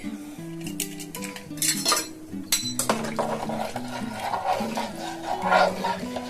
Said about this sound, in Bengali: এইভাবে আরেকবার নাড়িয়ে দিলাম এটাকে